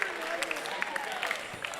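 Audience in a chapel clapping along in a steady rhythm, a moderate patter of many hands with a voice speaking over it.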